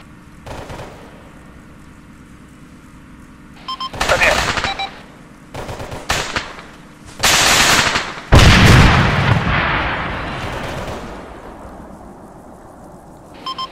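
Gunfire in a military shooter game while defending a tower in Syrta: loud bursts of automatic fire and heavy blasts come in clusters between quieter gaps, with a voice talking over parts of it.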